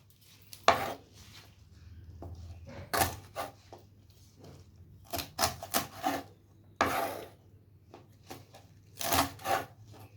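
Mustard greens are cut on a board, a knife striking in scattered, close thuds with brief rubbing scrapes between the irregular strokes.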